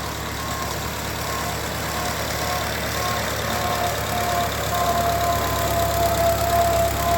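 A Ford 9N tractor engine runs steadily at idle with a low, continuous rumble and faint mechanical knocking, rising slightly in loudness toward the end, no voices.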